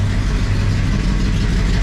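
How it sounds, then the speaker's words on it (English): A 1966 Pontiac 2+2 convertible barn find with a freshly fitted 421 engine idles smoothly and steadily up close, a dense low rumble holding even throughout with no voices. "Car's running smooth."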